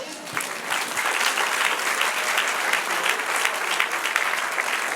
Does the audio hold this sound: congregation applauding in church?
yes